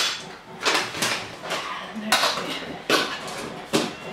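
Metal spoons and kitchenware clatter in a few sharp, separate knocks and scrapes while chin chin croquettes are prepared in a home kitchen, with quieter handling noise in between.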